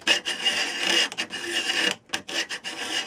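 Rotary plane shaving a wooden chair leg into a square-shouldered spigot for a Sussex chair, giving steady close rasping cuts in several strokes with brief pauses between passes.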